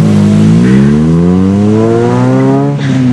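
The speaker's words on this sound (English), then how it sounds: "My engine's not stopped." A car engine runs loudly and revs up, the drone climbing steadily in pitch for about three seconds before briefly dipping. It sounds close and alone.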